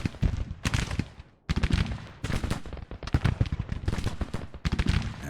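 Musket volleys in the Civil War strategy game Grand Tactician during the Battle of Franklin, loud dense crackling gunfire in continuous rolling bursts with brief gaps, booming and close, with no voices.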